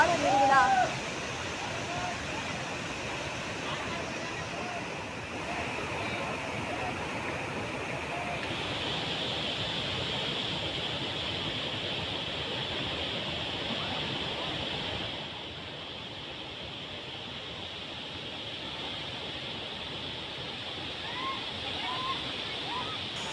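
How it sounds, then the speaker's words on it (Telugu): Bogatha waterfall swollen after heavy rain, a constant broadband roar of rushing, crashing water heard steadily near at hand with a faint voice briefly audible early on. "ఎగువన కురుస్తున్న భారీ వర్షాలతో జలపాతం ఉరకలెత్తుతోంది."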